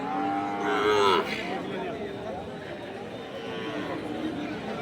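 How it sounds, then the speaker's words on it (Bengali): At a cattle market, a nearby cow gives a loud drawn-out moo at the start while a crowd chatters in the background and someone talks over the scene. "এই যে পাশেও দেখতে পারতেছেন পর্যাপ্ত পরিমাণের গরু"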